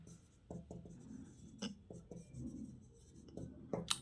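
Chalk or a marker taps and scratches across a classroom board in short strokes while a maths solution is written out, quiet and close with brief pauses between marks and no voice.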